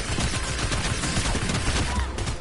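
Loud, sustained Fortnite gunfire rattles in a thick barrage of overlapping shots, close and unbroken from start to finish.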